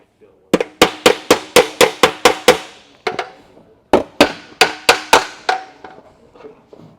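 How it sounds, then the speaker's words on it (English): A hammer strikes sheet metal laid on a table edge to flatten a flange, sounding in two rapid bursts of about eight sharp, ringing blows each, close and loud. "So I'm going to clean this up now with a hammer on the edge of a table"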